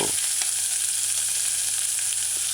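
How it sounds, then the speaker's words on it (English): Lo mein sizzles in a saucepan on a medium-low stove, a loud, close, steady frying hiss with a few soft stirring scrapes. "stir fry it a little bit"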